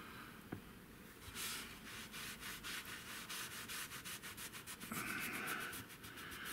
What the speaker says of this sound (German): Ich habe hier versucht, so gut wie es geht, mit dem Strich zu schleifen